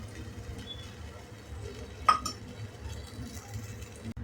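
A lid goes onto a pan of ragi amboli cooking with ghee, landing with a single sharp clink midway through. Under it is a faint, low background hum.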